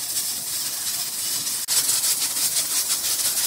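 A pressure cooker on the stove, used for baking eggs, hisses steadily as steam escapes and the weight begins to rock, a loud continuous rushing hiss with a brief break midway.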